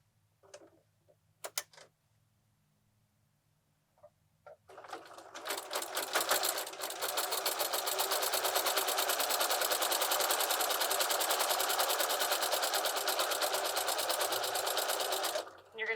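A sewing machine stitches quilted scrappy place mat fabric: a few faint clicks and handling noises, then the motor starts and runs in a steady, loud, fast rattling stitch for about ten seconds.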